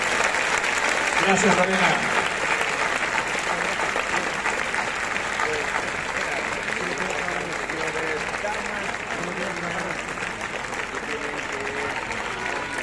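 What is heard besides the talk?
crowd applause at the Lerma festival proclamation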